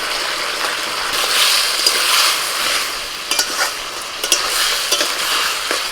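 Fried potatoes tumbled into a pan of broad beans and drumsticks cooking in oil with a splash of water, giving a steady close sizzle with scraping stir strokes and a few sharp clatters, no voices.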